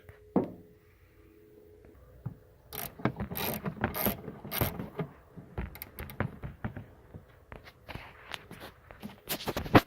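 A ratchet tightens a trailer ground wire on a 2012 Mazda 5, giving quick bursts of close, sharp clicking with mechanical rattles between short pauses.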